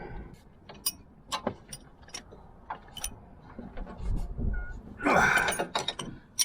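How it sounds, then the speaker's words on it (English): Metallic clicks, taps and rattles of tools as a car aircon compressor clutch mechanism is bolted up, with scattered sharp knocks and a louder clattering cluster near the end. "I need to bolt that up."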